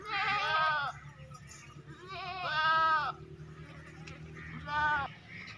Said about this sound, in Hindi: भारी जिसामत का बकरा है और खस्सी बकरा जनाब